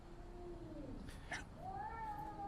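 A cat meows several times in a drama scene, with drawn-out tonal cries rising and falling, moderately close, over quiet room background.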